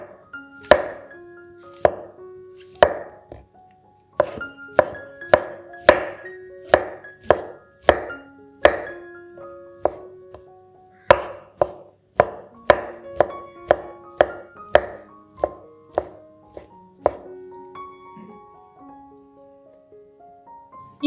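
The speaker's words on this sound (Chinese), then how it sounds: "将4朵白蘑菇切丁" Four white mushrooms are diced with a knife on a cutting board, giving a steady series of crisp, close chops, about one per second, ringing briefly and set apart by short gaps.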